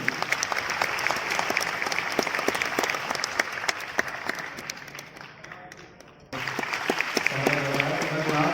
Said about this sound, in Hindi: आइए तालियां एक बार आसपास होगी